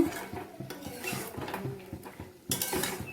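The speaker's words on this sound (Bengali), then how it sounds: "এখানে এইভাবে নেড়ে নেবো একটু" Brinjal curry with a pinch of garam masala being stirred in a pan, giving repeated scraping and clinking of a spoon against metal in a steady rhythm, close and fairly loud, with a sharper burst of clatter near the end.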